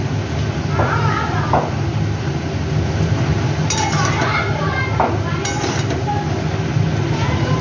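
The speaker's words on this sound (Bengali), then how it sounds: "লাল শাকের ডাঁটাগুলো দিয়ে দিচ্ছি" Red amaranth stalks go into a cooking pan, bringing light clinks of a utensil against metal over a constant background rumble, with a voice talking throughout.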